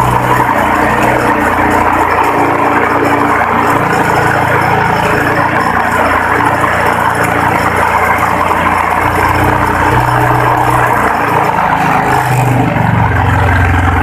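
A motorcycle engine held at steady high revs while its battery charging is tested, a continuous loud drone with a low rumble running unbroken throughout.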